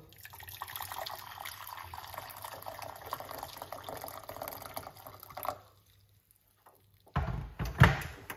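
Hot water runs and splashes steadily into a pot for about five seconds, then stops; after a short quiet, a few louder clunks and splashes follow nearby.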